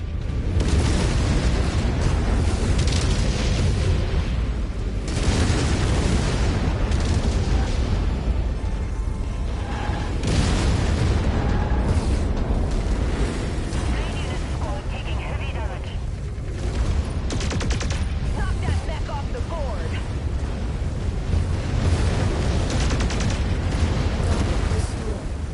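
Incoming missiles exploding around a battlemech in MechWarrior 5: Mercenaries, a long barrage of loud booms and bursts over constant rumbling combat noise, with radio voices talking throughout.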